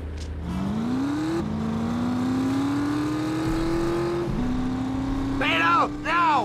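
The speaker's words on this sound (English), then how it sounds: "this car will be nice and silent to sneak in and drive off" A car pulls away and keeps driving in The Saboteur, its engine holding a steady rising drone that is loud and close, with brief talk near the end.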